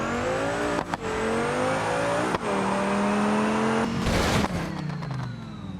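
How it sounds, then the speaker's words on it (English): A modded Dodge Viper engine in BeamNG Drive roars up through the gears at a drag strip, each pitch climb cut by a sharp gear-shift dip, three shifts in quick succession before a tire-squeal-like burst. "Let's take it to the drag strip and see what this Viper can really do when we put the pedal to the metal."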